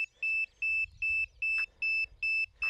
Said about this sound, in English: you need to hear two beeps